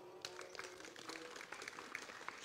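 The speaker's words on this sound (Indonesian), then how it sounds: "Tepuk tangan dulu." A church congregation gives a faint, scattered round of applause, with individual claps audible over a soft background hum, heard at a distance and fairly quiet throughout.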